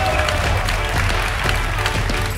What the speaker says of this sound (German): begrüßen Sie mit großem Applaus den Ministerpräsidenten des Freistaates Sachsen, Michael Kretschmer.